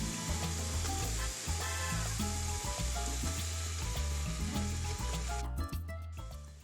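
Meat and onions fry in oil, a loud, continuous sizzle close by with crackling throughout and a brief metallic stir near the end.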